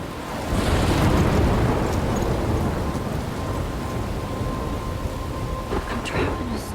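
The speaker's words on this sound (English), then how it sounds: "I'm trapped in a storm?" A thunderstorm rages in the video game Life Is Strange: a loud, continuous roar of heavy rain and rumbling thunder, with no voices over it.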